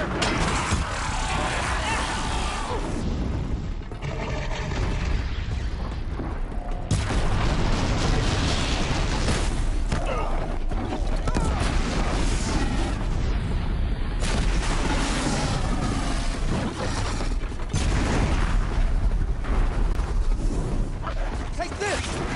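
Explosions in the video game Horizon Zero Dawn, heavy booms and blasts layered over dense mechanical combat noise, loud and continuous throughout, with a voice talking over much of it.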